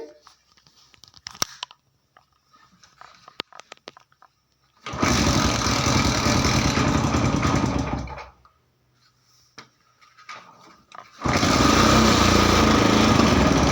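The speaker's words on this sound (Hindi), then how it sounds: "तो ये मेरी बाइक प्रॉपर स्टार्ट है" A few clicks and rattles, then a Hero Glamour BS6 fuel-injected motorcycle engine roars to life after the key is switched on, runs for a few seconds, cuts out, and starts again to a steady rumble.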